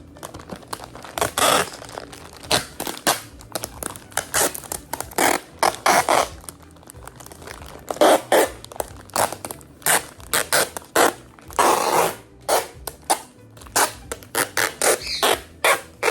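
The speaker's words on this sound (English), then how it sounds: "So I'm just gonna like wrap this up with some tape here." Packing tape being pulled off the roll and wrapped around a package being prepped for Etsy sales, irregular close crackling rips and crinkling bursts repeating throughout, with no talking.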